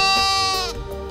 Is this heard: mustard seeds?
no